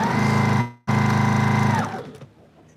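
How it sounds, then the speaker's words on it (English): A sewing machine stitches quilt seams in a steady, loud, close mechanical whir, briefly halting once and then running on before winding down to quiet. "I'm now going to sew those two together."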